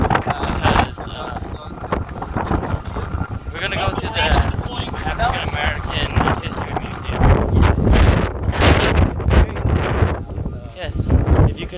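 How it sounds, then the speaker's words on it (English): Gusty wind blasts the microphone outdoors on a city street near a metro, producing loud rumbling buffeting that swells and drops under people chatting throughout. "Yeah, so if you hear all this little, like, it's because of the wind."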